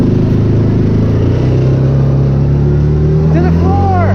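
A 2009 Yamaha Rhino 700 UTV runs loud and close as its engine pulls toward top speed across a snowy hay field, a steady droning note with a voice shouting over it near the end.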